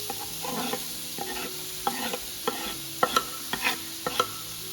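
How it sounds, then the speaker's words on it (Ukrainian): Onion pieces frying in oil to golden, sizzling steadily while a spatula scrapes and stirs the pan in a run of sharp, repeated knocks and scrapes, close and clear, with no talking. "Підсмажую цибулю на олію до золотистого кольору. Постійно її помішую, аби не підгоріла."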